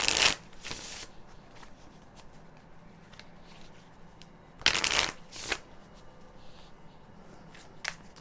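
A deck of tarot cards being shuffled up close, sharp riffling bursts at the start and again near the middle, with quieter handling and shuffling of the cards in between.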